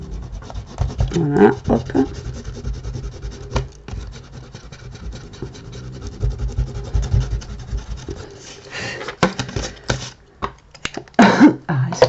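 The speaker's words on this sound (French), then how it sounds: "moi je vais gommer tous mes traits que j'ai fait" An eraser rubs out pencil lines on a Christmas tree card in short, scratchy bursts close by, with a few brief spoken words.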